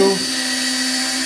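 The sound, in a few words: drill boring pilot hole in 2x4 wood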